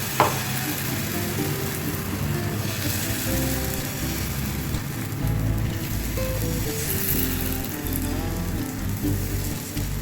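Chhana patisapta crepe cooking in a pan greased with refined oil, giving a loud, dense, continuous sizzle that holds steady from start to finish.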